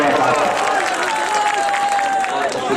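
An audience at a mushaira poetry gathering applauds with a dense, continuous wash of clapping, held at an even level throughout and mixed with a faint tonal sound.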